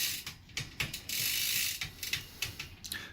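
A bicycle chain runs over a new crank, giving a soft, quiet ratcheting click and whir in a loose repeating rhythm, close by with no talking.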